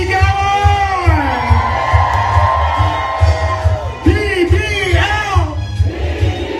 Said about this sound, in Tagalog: salubungin natin ang isang malakas na sigawan!